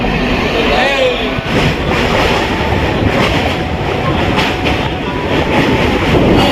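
A train runs on rails with a loud, continuous rumble and rhythmic clickety-clack of wheels over track joints, heard close by throughout.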